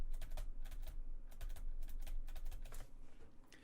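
Computer keyboard keys tapped in quick, irregular bursts while playing the game Everhood on PC, a steady clatter of keystrokes with no talking.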